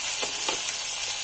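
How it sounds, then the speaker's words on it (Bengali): Tomatoes sizzle and spit in a hot pan with a steady crackling hiss, close by, with a few soft stirring bumps and no talk. "এর মধ্যে আমি টমেটোগুলো দিয়ে দিচ্ছি"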